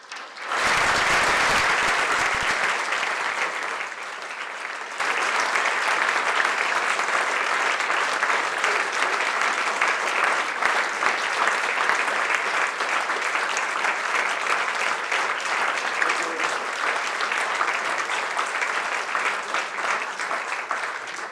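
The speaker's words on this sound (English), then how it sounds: "I think he deserves a round of applause" An audience at the SOS Children's Villages Hermann Gmeiner Academy in Innsbruck gives sustained applause after a talk, with dense, steady clapping that holds loud and even for about twenty seconds.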